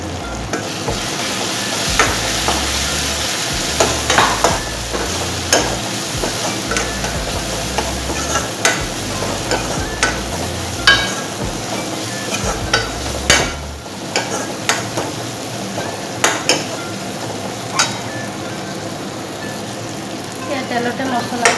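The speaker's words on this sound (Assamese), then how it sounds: "তেলতে মছলাখিনি ফ্ৰাই কৰি দিলোঁ বিলাহীৰ সৈতে" Turmeric, cumin and chili spices frying in oil with tomatoes for an egg, dal, potato and vegetable curry, sizzling steadily throughout with frequent scraping stir strokes and utensil clinks close by.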